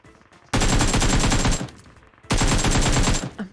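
Rapid automatic gunfire in a battle royale video game featuring power armor, two long dense bursts of close, loud shots separated by a brief pause.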